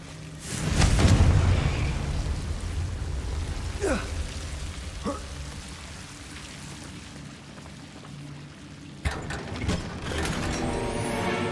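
A Bombarda blast spell in Hogwarts Legacy, heard as a heavy boom near the start with rumbling debris over steady rain-like crackle, followed by brief magical whooshes and a sharp second burst near the end.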